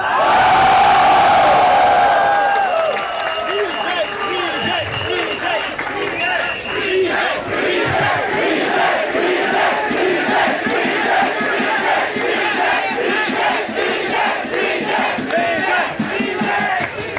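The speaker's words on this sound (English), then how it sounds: "Let's hear some noise, Singaporeans." A large protest crowd roars and cheers, with loud shouting and whoops swelling into a sustained wall of voices and scattered clapping, close and intense throughout.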